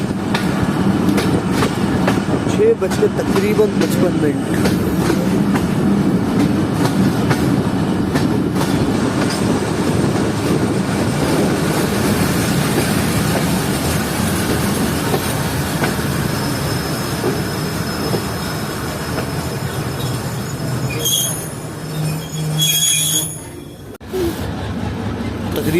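The Zikriya Express passenger train pulls out of Feroza railway station with a loud, steady rumble of wheels and carriages, rhythmic clacking and squealing, heard from inside, with a voice speaking briefly near the end.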